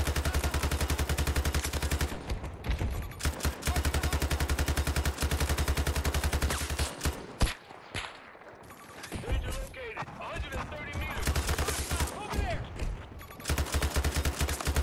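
Type 88 light machine gun firing in Battlefield 2042, loud close bursts of rapid automatic fire with brief pauses between strings, other battle noise mixed in.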